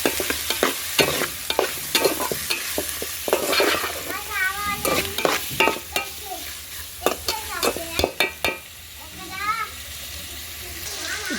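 Chicken frying with ginger-garlic paste in a pan for biryani, stirred with repeated sharp scrapes and clacks of a spoon against the metal over a soft sizzle, with a voice speaking intermittently.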